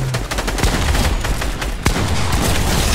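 Fortnite gunfire rattles in dense, loud bursts, with rapid repeated shots and one sharp crack standing out partway through, all continuous and close.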